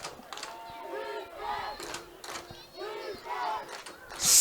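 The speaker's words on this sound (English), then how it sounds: "And you hear the defensive chant from the crowd." A football crowd chants in rhythm to back its defense late in a game between the Denver Sharks and NoCo Nightmare, repeated distant group shouts rising and falling over stadium noise.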